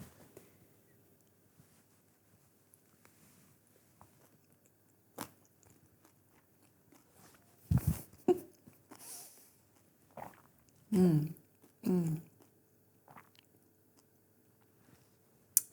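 Someone tastes a spoonful of apple risotto amuse bouche, creamy rice with apple and butter, in a quiet room, giving a few close, soft biting and chewing sounds in short bursts with pauses between.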